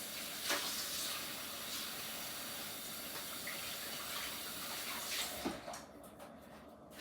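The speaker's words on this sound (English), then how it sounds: "Washing my hands." Running tap water pours steadily while hands are washed beneath it in a home kitchen sink, a continuous close hiss and splash that fades near the end as the tap is turned off.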